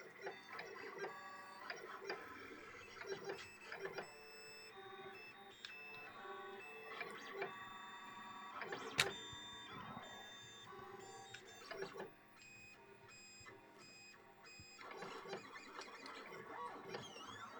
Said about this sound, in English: Is the printer sound too annoying for you?